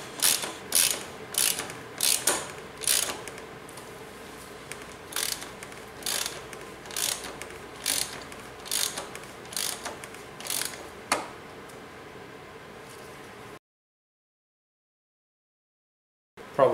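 A Hazet 2169 oil filter wrench ratchets on a VW 1.9 SDI diesel engine, giving a steady series of sharp, close clicking bursts roughly every half second, then near silence at the end.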